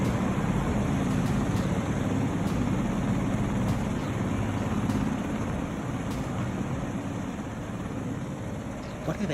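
A helicopter landing in a Los Angeles street, its steady rotor and engine roar filling the scene with continuous broadband noise, loud and sustained throughout.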